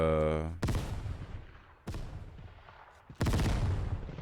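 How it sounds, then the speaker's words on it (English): Rifle advancing fire on a shooting range in the tactical shooter Ground Branch: three loud, sharp shots spaced about 1.5 seconds apart, each with a long echoing tail, preceded by a short tonal hum. "Do a little advancing fire here."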